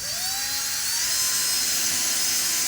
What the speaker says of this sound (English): I like to use a small bit first just to make sure there's no stud behind here.